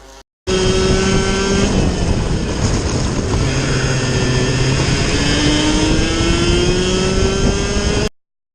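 Mini Rok go-karts racing at Fulbeck in a Super One British kart championship round, their high-revving engines loud, close and continuous, with pitch rising and falling as the pack passes.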